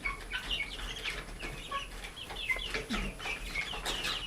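Chickens, chicks and young guinea fowl in a chicken house cluck and chirp continuously at moderate distance, with scattered higher peeps over a soft background.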